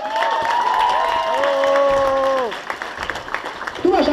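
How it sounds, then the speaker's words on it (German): Crowd clapping and cheering at a one-on-one breakdance battle, with a loud shout and a voice over the sustained applause early on, then scattered claps as the noise thins out. "Da bringe ich extra Applaus."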